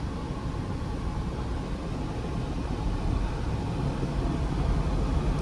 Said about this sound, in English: The blower is probably loud,